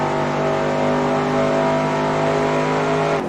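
Race car engine in NASCAR Racing 2003 holding a loud, steady high-revving drone with slowly climbing harmonics for about three seconds, no talk over it.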